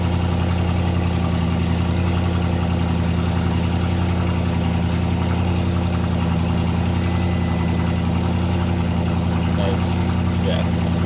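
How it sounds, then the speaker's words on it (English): An Audi RS6 with a new aftermarket exhaust, heard from inside the car during a cold start, giving a steady, deep, loud droning idle that continues throughout. "this is the cold start from inside the car"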